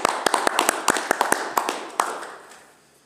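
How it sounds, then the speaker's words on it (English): Scattered applause at a shire council meeting, with a couple of seconds of sparse, uneven claps in a room that thin out and fade away. "I think they need a round of applause."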